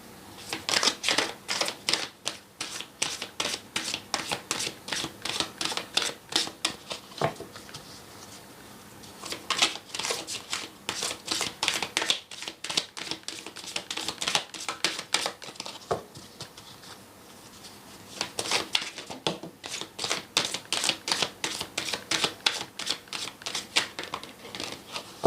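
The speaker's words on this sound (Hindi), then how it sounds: "कुछ कार्ड्स और ले लेते हैं।" Tarot cards being shuffled and drawn, giving a long run of quick, crisp riffling and snapping bursts close by, loud and repeated in waves with brief pauses and no talk.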